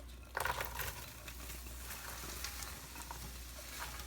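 Shredded red cabbage fries in a pan with bacon fat, giving a faint, steady sizzle with soft crackles and a brief clatter near the start.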